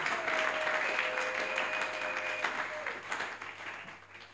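A church congregation claps together during a French and Lingala worship service acclaiming the Lord, giving dense sustained applause with a faint sung or whistled tone above it, fading slightly toward the end.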